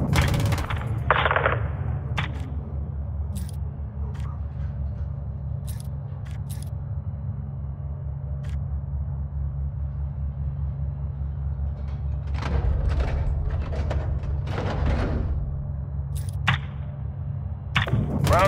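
Bursts of 25mm cannon fire in the video game Call of Duty: Modern Warfare II, sharp repeated shots over a constant low aircraft drone, with quieter gaps between volleys.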